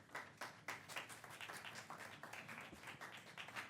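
Faint, steady applause from attendees at a South Haven city council special meeting on the Overton project, a dense wash of hand claps with a few sharper claps early on.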